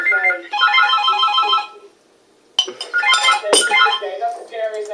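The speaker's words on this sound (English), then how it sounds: "That sounds like a phone!" A phone ringtone plays in a repeating electronic melody pattern, pauses briefly, then rings again loudly, with voices talking alongside the ringing.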